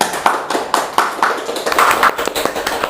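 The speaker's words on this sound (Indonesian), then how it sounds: "tepuk tangan untuk semuanya" An audience claps hands in an irregular, loose patter of separate claps at a moderate distance, with a brief voice underneath.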